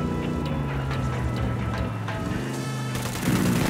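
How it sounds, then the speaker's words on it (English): Video game gunfire from Tom Clancy's Ghost Recon Wildlands crackles in rapid, dense bursts against a continuous music and ambience bed, loud and unbroken for the whole stretch. "I'm opening fire."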